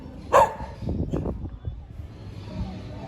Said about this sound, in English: These are some street dogs.